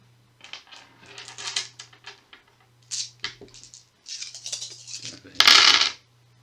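A handful of twelve dice rolled in a Shadows of Brimstone board game clatter across a tabletop in several bursts of rattling clicks, ending in one loud, dense tumble, with a low steady hum beneath.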